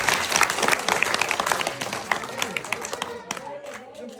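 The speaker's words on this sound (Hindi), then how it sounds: "सही है तो ताली बजानी पड़ेगी" An audience at a community gathering claps loudly and continuously, many hands close by forming dense, crackling applause that tapers off near the end, with some crowd voices mixed in.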